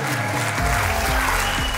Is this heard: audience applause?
yes